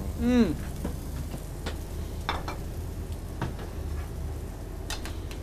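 Brussels sprouts with bacon and shallots sizzle in a pan as a steady, even crackling hiss with scattered small pops. A brief squeaky sound rises near the start.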